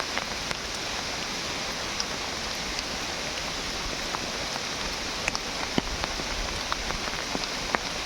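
Heavy rain falls steadily in a forest, a dense continuous hiss of drops on leaves and surfaces with occasional louder close drips, no voices.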